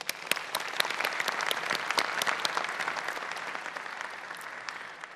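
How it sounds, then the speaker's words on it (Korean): Audience at the KFX fighter jet prototype rollout ceremony at the Korea Aerospace Industries factory applauds, a steady wash of many hands clapping at moderate distance, even and sustained throughout without voices. "함께해 주신 모든 분들께 큰 박수 부탁드리겠습니다."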